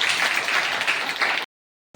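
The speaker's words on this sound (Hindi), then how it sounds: "बस जोरदार ताली आपके लिए।" Loud audience applause at an LDP training program in Roorkee, dense steady clapping from a crowd for about a second and a half before cutting off abruptly.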